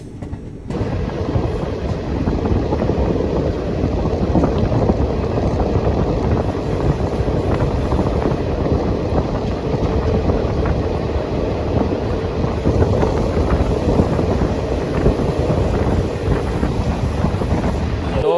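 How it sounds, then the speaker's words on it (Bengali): The 13020 Bagh Express pulling out of Chauri Chaura station, heard from on board as a loud, steady rumble of wheels and carriages with heavy wind buffeting the microphone the whole time. "চৌরি চৌরা স্টেশনে আমাদের বাগ এক্সপ্রেস মাত্র 2 মিনিট স্টপেজ দেওয়ার পর কিন্তু আবার ছেড়ে দিল"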